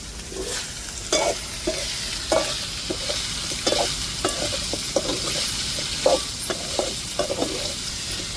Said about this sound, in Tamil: ஒரு சிம்பிளான முறையில் பொரிக்கிறது தாங்க கருவாடு